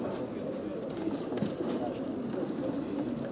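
Pigeons cooing inside a racing-pigeon transport cabin, soft low murmurs blending with a steady background rumble at low level.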